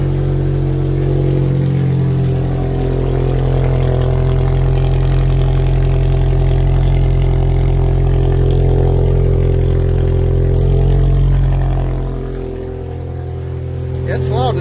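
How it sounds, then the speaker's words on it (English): A car engine, cold-started, runs at a loud, steady idle with a deep rumbling drone, dipping slightly near the end; close by, no speech heard. "Nice cold start that time."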